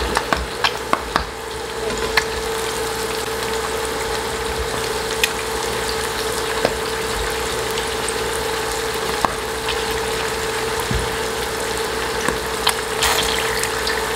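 Pork mesentery for chicharon bulaklak frying in oil, a steady bed of dense sizzling and bubbling running throughout with occasional sharper pops and crackles, no talking.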